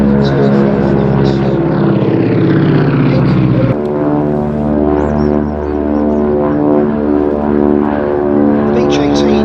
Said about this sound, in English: Beech 18 dates back from 1937 when it made its first flight, and it generally was a popular military aircraft